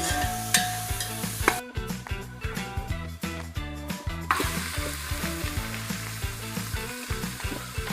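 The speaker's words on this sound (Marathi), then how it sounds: "तेल गरम झालं की त्याच्यामध्ये कांदा आपण टाकून घेऊया. कांद्याला लालसर कलर येईपर्यंत आपण त्याला भाजून घेऊया थोडंसं." Onions frying in hot oil for a village-style goat mutton curry, giving a steady close sizzle with occasional crackles under continuous tonal music.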